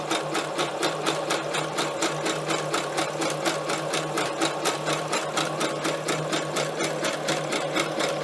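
A sewing machine runs steadily over scrappy fabric clusters for gift cards, a loud, even rhythmic whir of stitching that continues without stopping.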